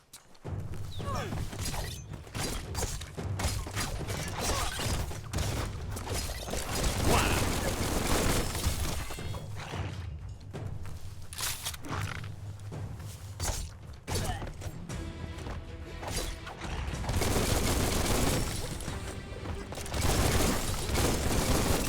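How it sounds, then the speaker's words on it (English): Gunfire in the video game Biomutant crackles in rapid bursts of sharp shots and clattering impacts, loud and dense, continuing with short pauses throughout. "Bullets everywhere."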